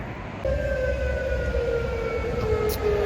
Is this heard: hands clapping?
no